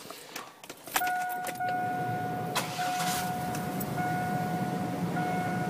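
A 1998 Chevrolet S10 pickup engine cranks with a short burst, catches, and settles into a steady loud idle with a whining tone, preceded by faint clicks and rattling.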